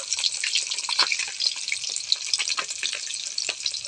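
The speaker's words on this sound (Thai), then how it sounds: "นี่ทอดปลามันนี่เขาทอดปลาจ้ะ" Fish, likely snakeskin gourami, fries in hot oil in a pan, a dense bubbling sizzle with crackling pops that stays loud and close throughout.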